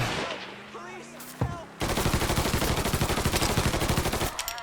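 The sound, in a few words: gunfire in video game Mafia 3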